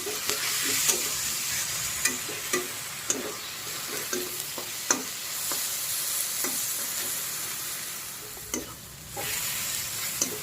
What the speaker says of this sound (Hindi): तो सबसे पहले ये हरी मिर्च और लहसुन का पेस्ट हमने इसमें डाल दिया। इनको डाल के अच्छी तरह से भूनेंगे।